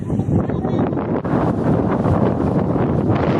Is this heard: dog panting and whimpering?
no